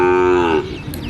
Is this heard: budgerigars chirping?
no